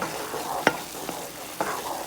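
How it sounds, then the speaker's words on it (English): Butter browning in a pan over moderate heat gives a steady, close frying sizzle, broken by a few sharp clicks and scrapes of stirring. "So we're gonna cook this until a bunch of this foam cooks off"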